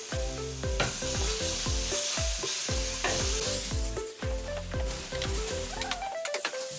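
Onion, tomatoes, tomato sauce and chicken stir-fried for Hungarian stir-fried noodles, with a loud continuous sizzle and repeated scraping stirs in a regular rhythm, close up and without talk.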